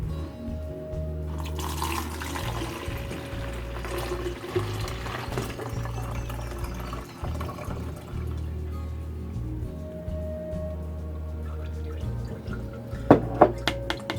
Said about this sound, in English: So very carefully pour your water kefir and your grains into your container and try to catch the grains in this strainer.